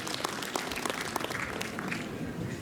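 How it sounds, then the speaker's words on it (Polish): Audience applause welcoming a speaker at a Women's Day event in Oleszyce, a dense, continuous clapping from a crowd, steady and moderately loud throughout the short stretch. "Gorące brawa."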